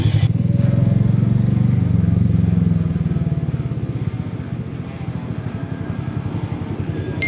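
Harley motorcycle engine rumbling loudly throughout a Sunday group ride, a steady deep throbbing pulse that eases slightly midway and continues to the end, with no talk.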